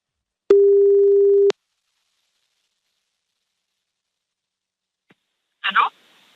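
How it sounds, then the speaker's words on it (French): Telephone call tone: a single steady electronic beep lasting about a second, then quiet, followed by a short clatter as the line picks up near the end. "On appelle cette voisine qui s'appelle Anaïs."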